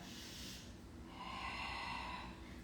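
Deep breathing in and out during a stretching exercise for low back pain: a long inhalation, then a slower, airy exhalation, close and steady against a faint hiss, with no speech.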